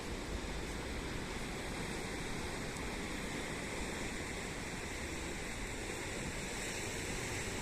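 Steady broadband roar of ocean surf along a coast, continuous and even with no distinct breaks, heard alone at moderate level.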